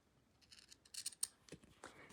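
Sharp scissors cutting through neoprene fabric for a hair bow, a few quick close snips and crisp slicing scrapes in short bursts, quiet and alone.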